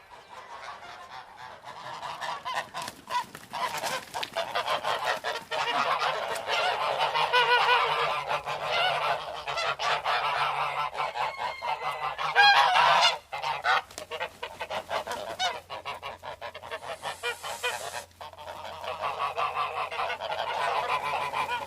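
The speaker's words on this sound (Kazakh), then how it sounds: "Қаз." Domestic geese honk repeatedly and loudly up close, making a busy run of overlapping nasal calls that continues with short pauses. No voices.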